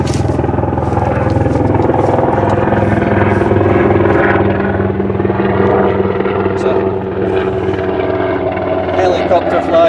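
Loud, steady helicopter drone with a throbbing rotor beat, sounding close overhead and continuing throughout, with faint voices underneath.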